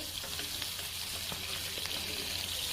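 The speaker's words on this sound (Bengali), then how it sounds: "এখন ভালোভাবে লাল করে ভেজে নিব সুন্দর করে।" Fish sizzles and fries steadily in hot oil in a pan, a continuous close crackle with small pops and occasional stirring, no voices.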